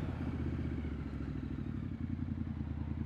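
Motorcycle engine and exhaust with the baffles still fitted, running steadily while riding, a loud continuous low throb with a slight rhythmic clatter throughout.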